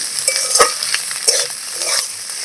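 Cut pieces of wheat roti are stirred in a pan, with a soft cooking hiss and a slow, regular series of close spatula scrapes and taps, and no one speaking.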